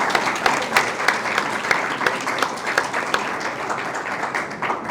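An audience at a book presentation applauds, a dense, steady round of clapping lasting several seconds at moderate loudness.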